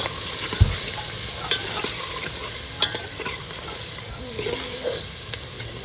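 Onions sizzle in a pan while being stirred for a dried fish curry, a constant close fry broken by clinks and scrapes of a spoon, with faint background noise.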